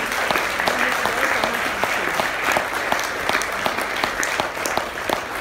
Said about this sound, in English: can we have a big round of applause for all the winners once again?